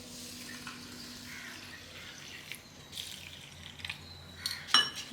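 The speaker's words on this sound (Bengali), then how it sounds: "জল দিয়ে ভিজে রাখবো কিছুক্ষণের জন্য" Water poured from a tap or jug over white and black mustard seeds and poppy seeds in a kitchen bowl, a faint, steady trickle with a few small splashes and drips near the end.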